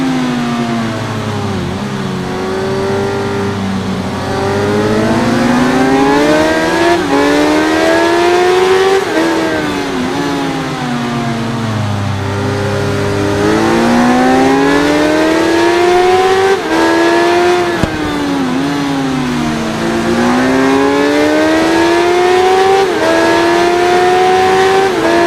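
A 2001 Suzuki GSX-R 1000 motorcycle in the racing game RIDE, its engine loud and close as it revs up and down in repeated rising and falling sweeps, with no talk.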